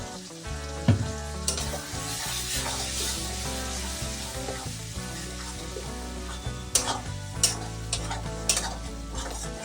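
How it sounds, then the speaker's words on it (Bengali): Spices sauté in a pan for chicken curry, giving a soft continuous sizzle broken by scraping stirs and a few sharper utensil knocks against the pan. "মশলাটা দিয়ে আমি কিছুক্ষণ কষিয়ে নেব"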